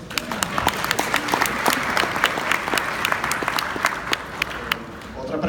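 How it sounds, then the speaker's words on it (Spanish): Audience applause at an IT and telecom conference, a busy continuous patter of many hands with sharp individual claps standing out near the front, steady throughout. "Aplauso, aplauso."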